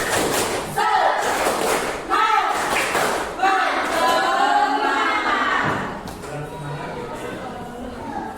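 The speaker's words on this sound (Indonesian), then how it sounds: "Coba tepuk semangat dulu, tepuk semangat." A group performs a rhythmic 'tepuk semangat' spirit clap, sharp bursts of clapping in quick patterned sequences, loud and close, with voices talking in between.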